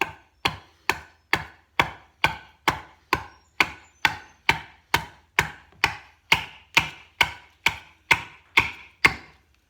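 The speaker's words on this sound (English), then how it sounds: "You can see we're just taking slices off." A knife carving thin slices across the grain of native cherry wood for a spoon, a steady run of about twenty crisp, evenly spaced cutting strokes, close and clear with no talking.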